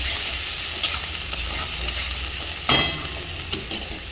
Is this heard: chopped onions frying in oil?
yes